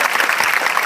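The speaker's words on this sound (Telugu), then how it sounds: "ఒకసారి మన రెడ్డి గారి గట్టిగా చప్పట్లు కొట్టాలి అందరూ" Loud audience applause at a Hindu gathering in Kodumuru, a dense steady wash of many hands clapping together without pause through the short stretch.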